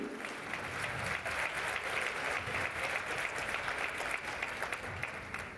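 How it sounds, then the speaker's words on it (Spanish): An audience at a motivational talk applauds a volunteer, steady dense clapping from a crowd that holds for several seconds before easing off at the end. "Un aplauso al voluntario."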